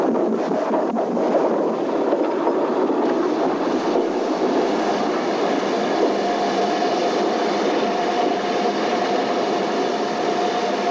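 A Henschel 0-4-4-0 Mallet steam tank locomotive rumbles steadily nearby in Portugal, a dense continuous churning roar with a faint tonal whine rising near the end.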